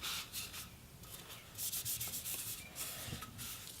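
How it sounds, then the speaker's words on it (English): A cloth wipes excess oil off the outside of a wooden boot tube, giving soft, close rubbing swishes in short uneven strokes, quiet and with no talking. "I'm going to wipe any of the excess off the outside"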